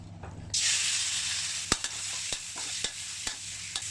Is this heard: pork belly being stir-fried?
yes